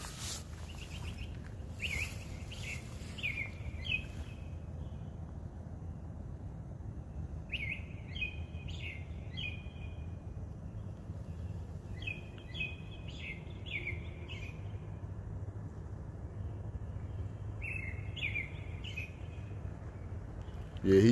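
A single bird sings at night in repeated short bursts of bright chirping phrases, separated by pauses, over a steady low background hum, moderately near.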